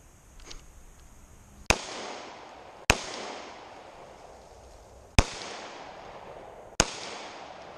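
Four sharp, loud Glock G40 pistol shots fired at uneven intervals, each a crisp crack trailing off into a long echoing decay, with no talking between them.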